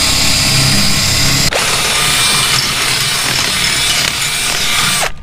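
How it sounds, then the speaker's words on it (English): A power drill bores steadily through a board during a motorcycle trailer camper build, its motor whining loud and continuous for about five seconds, with a brief dip in pitch partway through and a stop right at the end. "So we'll just get this drilled."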